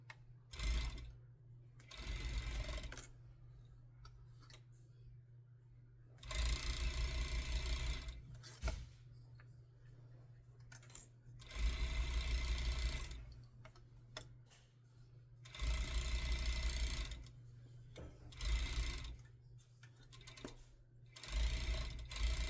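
A sewing machine stitches fabric in several fast, rattling runs of a few seconds each, separated by quiet pauses with faint handling sounds.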